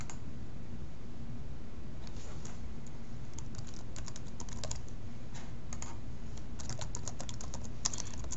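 Fingers tap out a new question on a computer keyboard in quick irregular clusters of soft clicks, close and fairly quiet over a steady low hum, with no talking.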